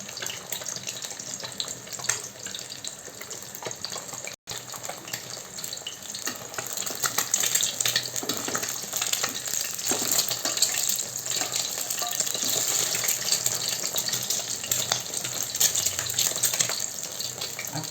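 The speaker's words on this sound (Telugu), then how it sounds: "కొంచెం బాగా అట్లా ఇట్లా రోస్ట్గా ఫ్రై అయిపోవాలండి." Tomato egg curry fries in a pan with a steady, watery sizzle, close and fairly loud. It runs unbroken for the whole stretch and grows slightly stronger partway through, with no talking.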